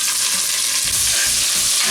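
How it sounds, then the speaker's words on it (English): Pre-chopped medium onion frying in oil over high heat, a steady bright sizzle with intermittent low scraping knocks as it is stirred, close and loud with no talk. "frying this onion till the time it's nice and brown"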